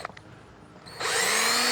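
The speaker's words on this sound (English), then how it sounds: "Now I gotta drill some holes." A power drill bores holes while a new dash bezel is installed on a Ford F150, its motor whining up suddenly after a quiet moment and running loud and steady to the end.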